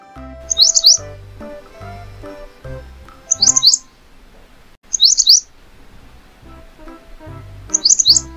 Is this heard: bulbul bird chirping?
yes